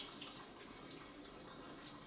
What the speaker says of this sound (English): I'm also rinsing it because it may be a little dirt caught in the leaves.